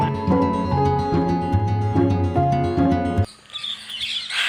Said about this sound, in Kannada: ಗಿಳಿಗಳ ಸೌಂಡೇ ಜಾಸ್ತಿ ಆಗಿದೆ.